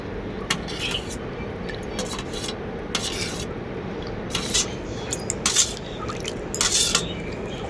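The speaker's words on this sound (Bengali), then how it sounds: "এরপর এর মধ্যে দিয়ে দেবো পোস্ত বাটা এরপর দেব কাজু বাদাম বাটা একসাথে খুব ভালো করে গুলে নেবো" Poppy seed paste and cashew paste are stirred into a chilled sherbet, a spoon clinking and scraping steadily against the vessel in repeated bursts, close and fairly quiet, with no talk.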